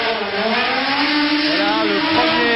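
Racing car engines running at the Monaco Grand Prix, a loud, continuous, close mechanical roar with shifting engine tones throughout.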